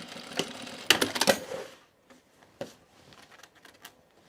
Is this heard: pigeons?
no